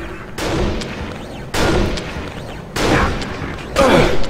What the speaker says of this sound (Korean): 누가 쏘는 거야?